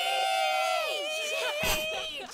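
Characters in A Plague Tale: Requiem imitate birds of prey with their voices, a sustained, high, wavering shriek from several people at once that bends downward, then dissolves into a burst of rough crowd noise near the end.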